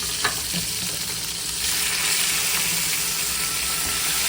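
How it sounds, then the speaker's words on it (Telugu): Chicken with skin goes into frying onions for biryani, sending up a loud close sizzle that swells partway through, with scraping stirring strokes over the hiss and no talking. "దీంట్లో ఇప్పుడు మనం చికెన్ వేసేసుకుందాం."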